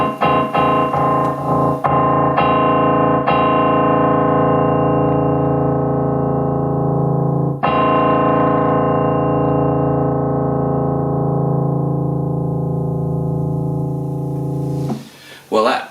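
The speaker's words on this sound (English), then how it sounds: "we're going to turn it right up and see how it copes with some bassy noises at high volume" Bassy keyboard notes played at high volume through a Vox VX50KB keyboard amp, a rapid series of short plucked tones followed by long sustained, harmonically rich held notes that ring out and then cut off.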